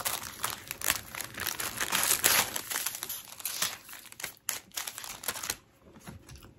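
A crinkly plastic package is torn and unwrapped close up, with dense crackling and rustling bursts for about five seconds before it quiets; no talking.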